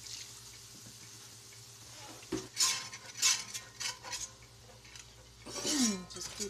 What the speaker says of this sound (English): Just keep whisking it around.